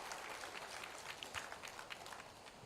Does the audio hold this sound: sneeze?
no